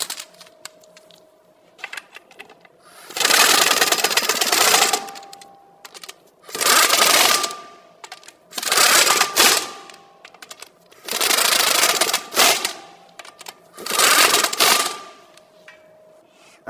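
An impact gun or power tool snugs lug nuts onto a Volvo XC60 wheel in five loud, separate bursts of rattling hammering, each lasting one to two seconds, with quiet pauses between.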